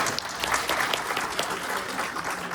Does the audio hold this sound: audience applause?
yes